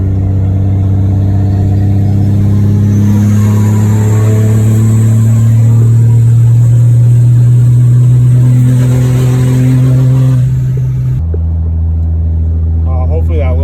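Stock-fuel 6.7 Cummins diesel pickup with an S472 turbo accelerating, a loud deep engine drone climbing steadily for about eleven seconds before dropping sharply as the pedal lifts, heard close from inside the cab.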